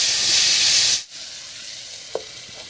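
Potatoes frying in oil in a pan for a tangra fish curry give a loud, steady sizzle that cuts off suddenly as a lid goes on, leaving a softer hiss and a small clink.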